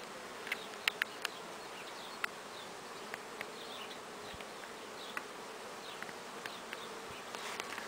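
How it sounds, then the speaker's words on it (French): Honeybees hum steadily around a hive entrance flight board, a dense, continuous buzzing swarm at moderate distance, with brief louder buzzes as individual bees fly close past, some returning laden with pollen. "on voit quand même pas mal d'abeilles aussi qui arrivent avec du pollen"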